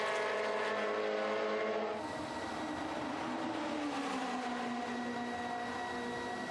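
Historic racing cars, including a McLaren, lap the Estoril circuit. A steady engine drone carries a slowly shifting pitch and is heard from a distance, faint and continuous, with no talk over it.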